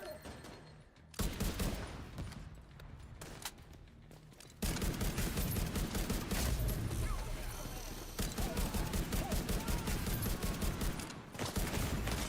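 Rapid gunfire in a shooter video game, dense bursts of automatic fire in long stretches with short pauses between, loud and close.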